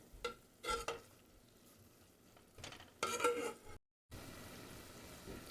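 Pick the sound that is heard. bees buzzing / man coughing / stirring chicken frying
stirring chicken frying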